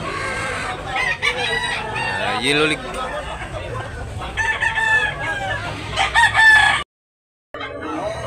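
A big three-year-old bullstag rooster at the Tabunok, Talisay, Cebu chicken market crows loudly and repeatedly over clucking and the chatter of people talking nearby, before the sound abruptly cuts out.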